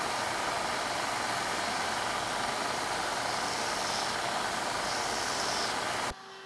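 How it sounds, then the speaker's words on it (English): A small bench top sander runs steadily while cleaning up notches in wooden puzzle pieces, giving a constant loud whirring hiss that stops abruptly near the end. "I used my little bench top sander to clean up all the notches"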